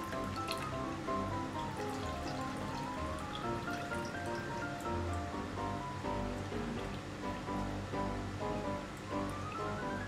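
Liquid runs and drips off chicken pieces just lifted from a water dip before breading for KFC-style fried chicken, a steady wet trickle lasting about ten seconds with faint tonal sounds underneath.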